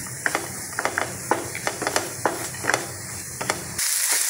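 A laddoo mixture with dry fruits, for a honey offering, is stirred in a pan with a rhythmic series of close scraping and clicking strokes, followed by a brief burst of broad noise at the end.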